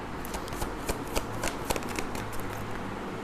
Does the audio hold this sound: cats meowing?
no